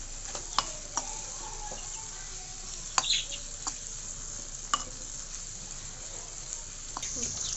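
Low, steady sizzle of sambar powder and spices sautéing in a small pot for fish curry, with occasional clinks and scrapes of a stirring utensil; a faint voice and a bird call sit in the background.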